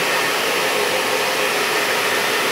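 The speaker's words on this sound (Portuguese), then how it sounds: "Pegou o secador aí, ó." A hair dryer blows in a steady, loud, continuous broadband whoosh, close by with no talking, used to dry paint on reused cosmetic packaging.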